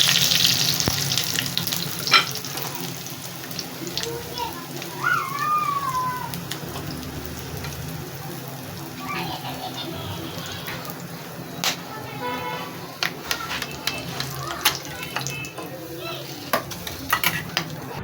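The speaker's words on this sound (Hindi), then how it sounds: "ये देखें मैंने सारी फ्राई कर ली है फ़िश" Butterfly fish frying in hot oil, a steady crackling sizzle running throughout with occasional clinks of utensils against the pan.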